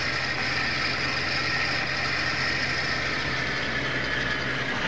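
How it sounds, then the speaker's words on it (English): In Farming Simulator 22, a farm vehicle's engine runs steadily with a rattling, knocking texture and a high whistle above the low drone, constant and close without pause. "Just to hear that rattling and whistling."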